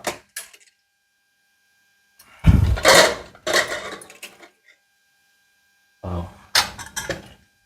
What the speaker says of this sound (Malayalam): നമുക്ക് കുക്കർ തുറന്ന് നോക്കാം.